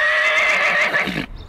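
A horse at the Orkdal trotting track gives a loud, close whinny lasting over a second, its pitch wavering before it breaks off abruptly into a short, quieter tail.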